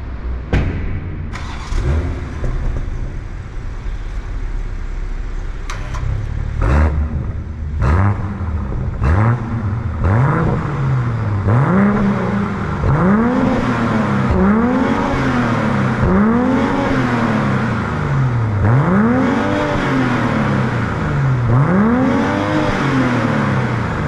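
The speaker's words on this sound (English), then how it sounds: "What you've just heard is the beautiful B58 engine." A 2022 BMW M240i's B58 engine starts with a thump, then revs repeatedly in rising and falling sweeps, loud and close, each rev followed by a brief drop.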